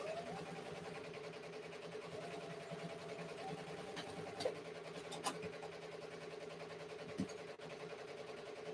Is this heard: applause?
no